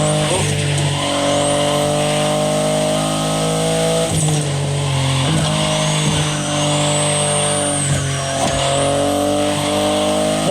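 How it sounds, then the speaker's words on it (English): BMW i8 hybrid sports car driving in The Crew Motorfest racing game, a loud continuous engine drone with tonal whine and brief shifts, steady and close throughout with no talk. "The BMW i8 is a car that stands out from the crowds."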